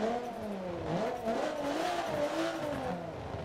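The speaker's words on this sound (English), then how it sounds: "let's fire up the big V6." Alfa Romeo Giulia Quadrifoglio V6 in Forza 7 starting up and revving, a steady loud engine drone whose pitch rises and falls in waves.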